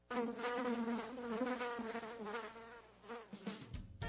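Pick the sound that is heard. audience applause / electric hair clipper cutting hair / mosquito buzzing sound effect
mosquito buzzing sound effect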